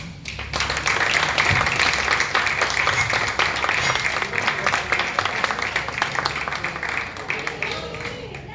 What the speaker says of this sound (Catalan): I ara, amb un fort aplaudiment, acomiadem a la nostra cap d'esquadra 2022, Martina Albelda Zanón.